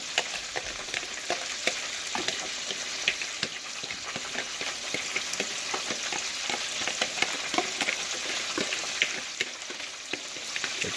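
Cake batter is poured and spooned into a small pan with brown sugar, giving a steady soft crackling, sizzle-like texture with scattered small taps throughout and no talking.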